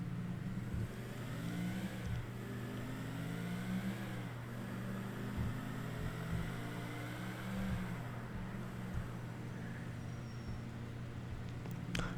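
Car engine in GTA IV, a steady mid-pitched drone with gear shifts rising and falling, close and continuous, with occasional light thumps from the road.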